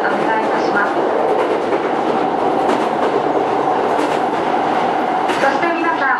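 Inside a moving Hankyu 9000 series electric train: a continuous rumbling roar with rhythmic clatter of wheels over the tracks, loud and close, with a faint voice underneath.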